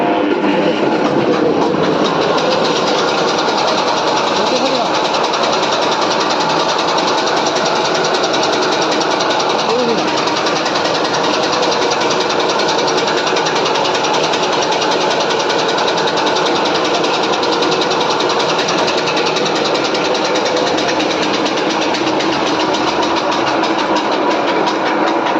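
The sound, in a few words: chaff cutter machine running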